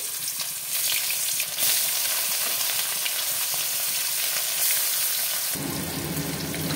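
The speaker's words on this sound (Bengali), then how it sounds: "তেলটা পুরো গরম হয়ে গেছে, আমি একটা একটা করে মাছ ছেড়ে দেবো।" Steady, loud crackling sizzle of bhetki fish frying in hot mustard oil, continuous throughout with a few sharper spits, no voices.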